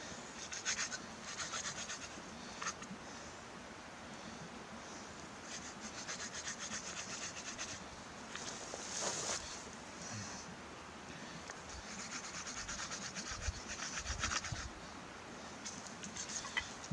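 A wooden hand drill is spun between the palms against a fireboard to make fire, giving a faint, continuous rubbing and scratching with rhythmic strokes, close up and alone.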